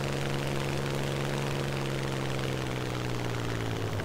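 Spitfire Mk9 piston engine in a War Thunder realistic battle, a steady droning aircraft engine hum held at a constant, fairly loud level throughout with no talking.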